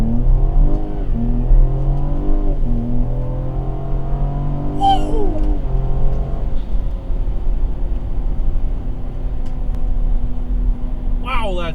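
A tuned 2020+ Ford Explorer, all-wheel drive, accelerates hard with a deep engine drone that rises through the gears in sweeping pitch climbs. Occupants talk over the loud engine throughout.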